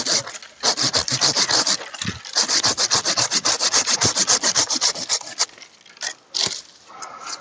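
A hand saw cuts through a tree branch being removed for cleft grafting, giving loud, rapid back-and-forth rasping strokes that run steadily, then slow to a few last separate pulls.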